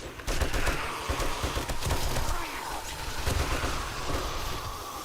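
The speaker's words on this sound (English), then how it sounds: "I can hear them shooting all over the place" Zombie attackers in 7 Days to Die fire guns in steady, overlapping volleys at a moderate distance, forming a busy, continuous rattle of shots.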